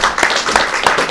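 An audience at a book presentation for a documentary novel claps steadily, a dense, even wash of many hands lasting about a second with no voices over it.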